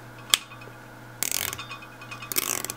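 A plastic hinge joint on a brick-built model clicks as it is worked over small ridges against a friction pin, giving a sharp single click followed by two brief rattling bursts of clicks, close and fairly quiet.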